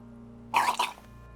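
A game character retching and vomiting in a gritty detective RPG, Disco Elysium, heard as a short wet heaving burst of about half a second with a second gag, loud against a quiet background.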